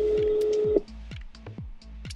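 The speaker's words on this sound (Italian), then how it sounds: "È partita la chiamata." Echo Auto placing a phone call: a steady dialing tone for under a second, then a regular series of soft electronic pulses and clicks, close and clear with no talk.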